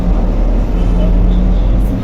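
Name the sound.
inside a moving Casabus city bus, line 64, Casablanca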